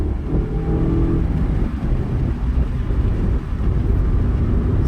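A 2023 Mazda MX-5 GT RS pulls hard out of a corner with a steady loud engine drone and road rumble. No distinct tire chirp stands out.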